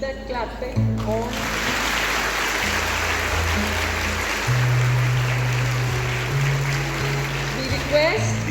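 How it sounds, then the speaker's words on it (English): Schoolgirls clap at a school ceremony for the National Day of the Girl Child, a continuous broad wash of applause that holds at an even level, with music tones running underneath. "Girls, keep that clapping on."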